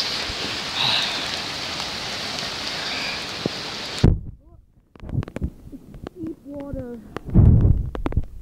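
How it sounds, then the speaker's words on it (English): Heavy rain hisses steadily for about four seconds, then cuts off abruptly, leaving quieter scattered noises and voices. "Rain down in my basement."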